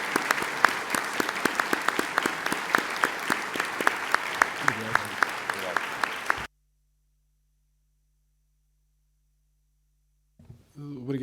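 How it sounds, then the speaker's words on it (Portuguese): Audience applause at a retirement tribute to a professor: dense, steady clapping from a hall full of people for about six seconds, then it cuts off abruptly into near silence before faint sound returns at the end. "pedir aqui um aplauso para o professor Pavão Martins neste"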